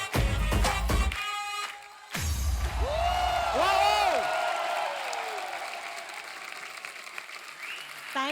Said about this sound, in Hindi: जोरदार तालियां नोरा के लिए।